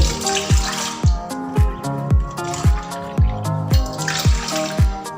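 Water is poured into coconut cream extract while making sweet corn pudding, giving a steady run of rhythmic splashing, gurgling pulses, close and fairly loud with no talking.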